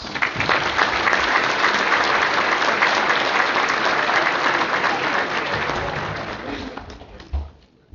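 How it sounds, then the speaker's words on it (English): Audience at a joint luncheon applauding, dense sustained clapping from a large crowd that holds steady for several seconds, then thins and fades out near the end. "Let's give them a round of applause."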